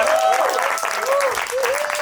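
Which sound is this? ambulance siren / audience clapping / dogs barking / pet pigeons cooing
audience clapping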